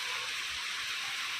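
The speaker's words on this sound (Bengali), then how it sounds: "এই দেখতে পাচ্ছ ভালোই বৃষ্টি হচ্ছে।" Steady rain that has been falling since morning outside a house on a wet day: a continuous, even hiss of drops with no breaks, fairly soft and unbroken, with no voices over it.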